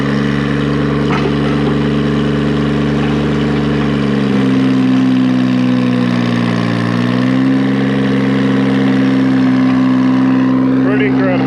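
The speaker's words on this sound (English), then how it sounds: "Big old Bucyrus Erie, another shovel running." An old Bucyrus Erie shovel engine runs steadily at a steam show, a loud, low, lugging drone whose pitch dips and rises slightly midway, with no one talking over it.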